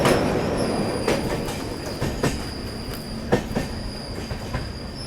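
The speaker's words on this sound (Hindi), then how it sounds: "अभी भी धीमे धीमे घाट सेक्शन में अपनी ट्रेन चल ही रही है" A Marathwada Sampark Kranti Express rolls slowly through a ghat section, wheels clacking rhythmically over rail joints with a sustained high squeal from the rails, heard close and steady from inside a coach, with no talk.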